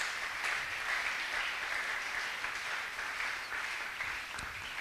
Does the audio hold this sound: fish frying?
no